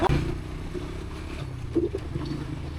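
A Honda NX200 motorcycle engine rumbles steadily at low pitch, close by, with a slight rise in revs near the middle as it is ridden.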